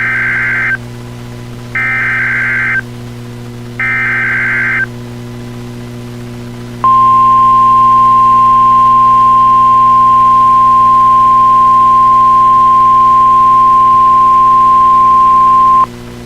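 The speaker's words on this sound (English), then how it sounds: "This is a test of the National Weather Service NOAA Weather Radio Warning Alarm System." A NOAA Weather Radio warning alarm test plays three short buzzy digital data bursts with pauses between them, then a loud, steady, pure alert tone held for about nine seconds over a low radio hum.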